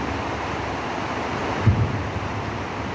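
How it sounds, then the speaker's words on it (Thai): Rainwater flows strongly during a downpour, a continuous broadband rush of water heard alone and close, steady for the whole moment. "น้ำไหลเนาะค่ะน้ำในไหลคักนะคะ"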